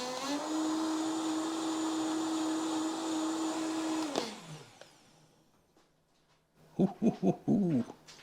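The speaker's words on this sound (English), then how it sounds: "We'll stick it in the Vitamix and see if we can get it a bit smoother." A Vitamix blender whirs loudly and steadily for about four seconds as it purées a courgette Thai green curry sauce with coconut milk, then winds down, followed by a few short clunks and knocks of the jug.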